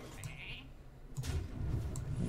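The 1/1 Sheep in Hearthstone bleats in a couple of short, fairly quiet cries over a soft game background.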